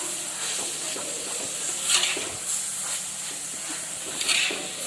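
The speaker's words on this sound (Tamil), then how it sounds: "ஸ்ப்ரிங் ஆனியன் இதை போட்டு ஒரு மிக்ஸ் பண்ணிக்கலாம்." Spring onion stirred into sautéed vegetables for prawn fried rice, a steady loud sizzle and hiss with occasional scraping stirs, close up and continuous without speech.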